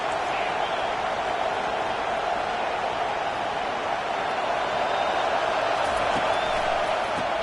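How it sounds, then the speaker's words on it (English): Stadium crowd noise from the NCAA 25 college football video game, a steady, dense broadband roar sustained throughout with no clear peaks, cheers or talk standing out. "This crowd going to try to make life miserable for these guys."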